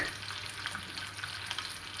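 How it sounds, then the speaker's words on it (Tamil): A whole chicken deep-fries in oil for Arabian mandi, producing a faint, even bubbling sizzle with small pops throughout and no voices. "ஃபுல் சிக்கனே இன்றைக்கி ஃப்ரை பண்ணி எடுப்போம்"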